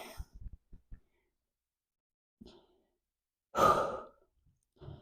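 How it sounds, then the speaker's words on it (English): During a child's pose stretch, a few soft short breaths are followed by one long, deep, audible exhale and a quieter breath, with near silence between. "just taking some really deep breaths"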